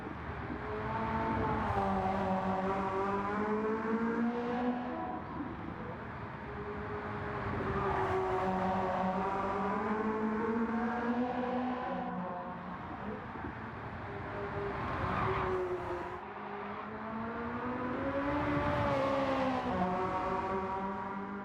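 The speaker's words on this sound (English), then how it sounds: "It just makes the absolute best noises ever, and I really do honestly enjoy the sound." A Porsche 918 in the racing video game Gran Turismo 7 revs and shifts repeatedly, its engine note rising and falling through gears at steady loudness, with no voices.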